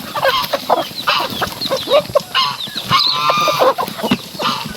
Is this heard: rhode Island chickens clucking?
yes